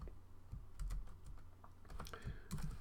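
Someone types an HTML title tag on a computer keyboard, a quiet, close run of irregular key clicks ending in a slightly denser burst, with no talking.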